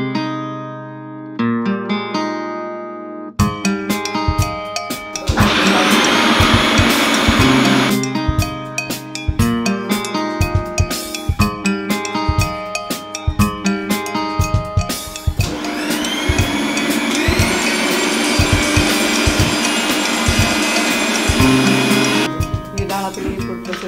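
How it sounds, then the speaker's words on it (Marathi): A food processor grinds soaked dal, starting with short pulses and then running in a loud, steady whir that surges and settles in long stretches, with brief stops between runs and no talking. "तोपर्यंत आपण भिजवलेली डाळ आता फूड प्रोसेसरला लावून घ्यायची."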